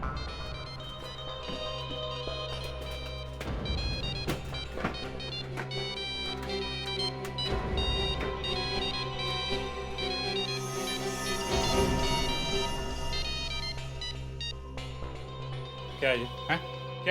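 A mobile phone rings from inside a closed trunk on a truck stopped on a Rajasthan highway, a steady ringtone melody running throughout beneath loud, overlapping voices of people arguing nearby.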